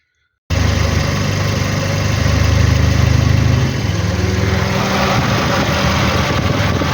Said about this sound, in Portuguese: Acabou de ligar a ventoinha, cara.